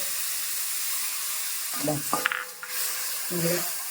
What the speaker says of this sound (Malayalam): നമുക്ക് ആ പുളിവെള്ളം കുറച്ച് ഒഴിച്ചു കൊടുക്കാം